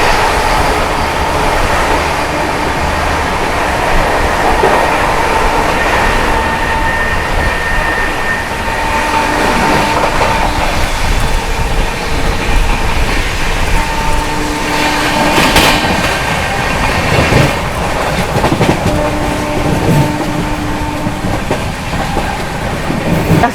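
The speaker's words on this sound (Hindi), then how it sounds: "गजब की भाग रही है ट्रेन" The Goa Sampark Kranti Express runs at speed while overtaking another train, with a steady roar and rhythmic clickety-clack of wheels over rail joints, loud and continuous with no talk.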